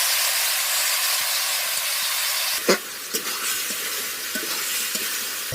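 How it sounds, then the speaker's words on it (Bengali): Country chicken meat hits hot mustard oil in a wok, a loud steady sizzle and hiss with a few sharp spatters and stirring clinks after the meat goes in. "কড়াইয়ে মাংস দিব"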